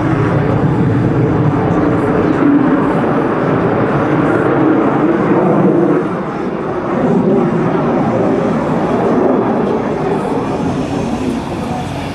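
A loud, steady military jet roar passing by at an airshow at MCAS Miramar, broad and rumbling, swelling and easing slightly over several seconds.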